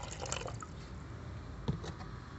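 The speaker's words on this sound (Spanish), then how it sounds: "Ahora voy a colocar el agua en el depósito." Water pours steadily into the reservoir of a self-watering plant pot, a soft continuous trickle with a small splash near the end and no talking.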